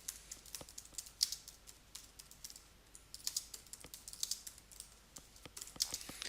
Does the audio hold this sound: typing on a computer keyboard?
yes